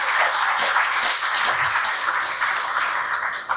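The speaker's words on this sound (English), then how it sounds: "A round of applause for her, please." Audience applause for the President of the Association of Women in Mining in Africa at a Namibian energy transparency event, a steady dense wash of clapping that holds evenly through the whole stretch.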